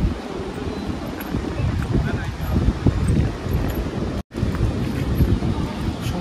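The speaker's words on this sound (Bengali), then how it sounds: "সমুদ্রের ধারে আসার সাথে সাথে কিন্তু একটা আলাদা হাওয়া দিচ্ছে" Steady sea breeze at a beach resort in Mandarmani roars as a constant low wind rush against the microphone, loud and unbroken for several seconds apart from one brief dropout.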